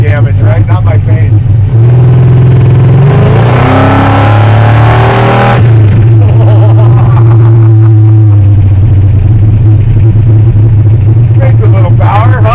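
A 1,000 hp all-motor Chevy farm truck engine roars close and very loud as it revs up through a rising pull, then settles into a deep steady drone while driving.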